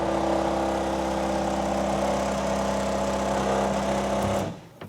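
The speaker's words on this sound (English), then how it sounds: "That sound you just heard is the mating call of a dry ice blasting machine." A dry ice blasting machine used on antique collectibles drones loudly and steadily with a harsh mechanical hum for several seconds, then cuts off abruptly near the end, close and without talk.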